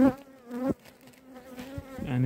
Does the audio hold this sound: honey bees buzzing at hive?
yes